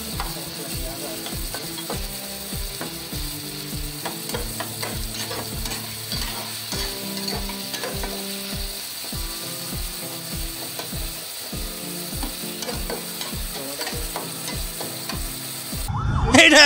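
Food frying in a pan is stirred with regular, evenly spaced scraping strokes over a constant close sizzle, with a louder clatter at the very end.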